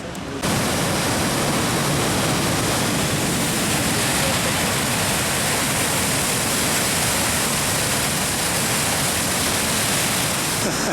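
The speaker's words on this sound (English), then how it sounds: "The waterfall at bridge number 3 in Moline Canyon in Jasper National Park." Waterfall at bridge number 3 in Maligne (Moline) Canyon, Jasper National Park, a steady, dense roar of rushing water that fills the whole clip without pause, loud and close, with no voices over it.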